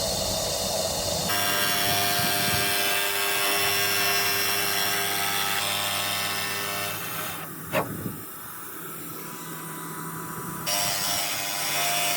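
A hand file is drawn back and forth over an object to smooth it, giving steady, close rasping strokes that continue for several seconds, then pause briefly before resuming.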